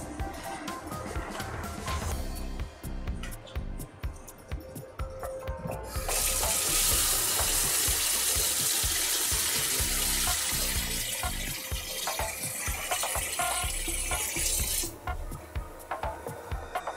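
Water runs from a tap in a steady rushing stream, close and fairly loud, over background clatter, with the flow strengthening midway before easing.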